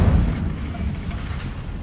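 In Hogwarts Legacy, the Incendio fire spell goes off as a low, rumbling whoosh of flame, a short burst that swells and then fades into a dull roar, heard alone with no voices.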